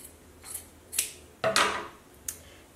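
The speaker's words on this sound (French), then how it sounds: "Je vais dégarnir les coutures." Scissors snip fabric seam allowances in a few short, close cuts, one louder crisp snip in the middle, set against a quiet room with no talk.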